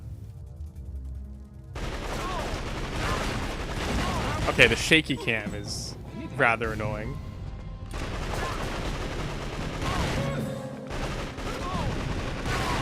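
Gunfire in a PS2 shooter game comes as dense bursts of rapid shots and booming blasts over game noise, while a player talks over the action.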